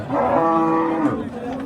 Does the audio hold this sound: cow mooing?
yes